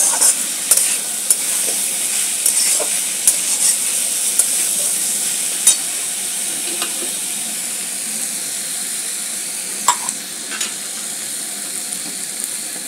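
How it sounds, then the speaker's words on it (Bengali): Dal, rice and onion stirred and frying in a pan for Bengali-style khichuri. A bright continuous sizzle runs throughout, with repeated scraping knocks of the spoon against the pan and no talk. "ডাল, চাল আর পেঁয়াজ সব একটু নেড়ে দেবো।"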